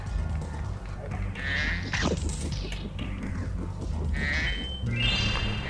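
A sheep bleats a couple of times in Spyro: Year of the Dragon over a steady electronic game background hum, the calls moderately loud and short.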